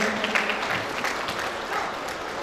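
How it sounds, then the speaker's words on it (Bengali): Audience applause welcoming a company CEO onto the stage at a couples' fair event, a steady dense wash of clapping lasting a couple of seconds with a faint voice underneath. "জোরে হাততালি প্লিজ"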